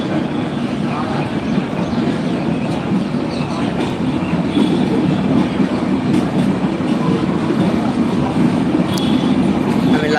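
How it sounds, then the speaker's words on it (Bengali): The 715 Kapotaksha Express train pulls out of Azimnagar railway station, bound for Rajshahi, with a loud, continuous rumble of wheels and carriages and faint rhythmic clatter, heard close throughout. "খুলনা থেকে ছেড়ে আসা 715 কপোতাক্ষ এক্সপ্রেস ট্রেনটি আজিমনগর রেল স্টেশন ভবন ছেড়ে যাচ্ছে"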